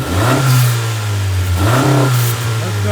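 A 2018-2020 Honda Accord Sport 1.5T with its stock intake revs up close by, rising in pitch, then briefly dropping back before climbing and holding a steady, loud engine note, with no talk.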